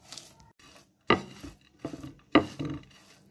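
Bhorta is mashed and mixed by hand in a bowl, giving a few short, separate squelching thumps and scrapes, close by, with quiet pauses between them.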